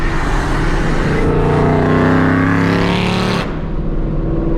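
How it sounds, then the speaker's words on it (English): A loud, roaring Procharger-supercharged Mustang engine with a high blower whine, revving up and holding steady before dropping off, close and continuous. "Listen to the Procharger, man. It sounds so sick."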